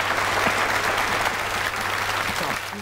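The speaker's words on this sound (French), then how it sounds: "Applaudissez Michel Béroff." A French television studio audience applauds pianist Michel Béroff, with close, full clapping that holds steady over a low steady hum and eases slightly toward the end.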